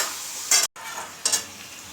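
Yogurt-marinated chicken fries in hot oil in a pan, a soft steady sizzle broken by two brief bursts of stirring scrapes, close and alone without speech.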